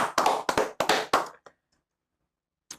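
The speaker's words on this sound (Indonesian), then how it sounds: "Ada tepuk tangan lagi" A few quick, close hand claps in a short burst, then silence with one faint tap at the end.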